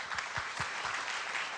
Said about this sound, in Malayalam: ഡാൻസേഴ്സിന് ഒരു സ്പെഷ്യൽ കയ്യടി.